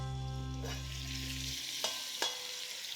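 Eggs sizzle and crackle in a hot frying pan at a Greek breakfast stove, a steady close frying hiss with a low hum that cuts out midway, then two sharp scrapes or clinks as the eggs are stirred.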